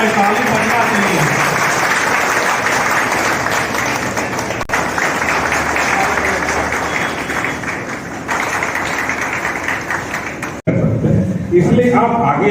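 Audience clapping at an Independence Day ceremony rehearsal, sustained dense applause lasting several seconds, fairly loud and even, ending abruptly before a short bit of other sound.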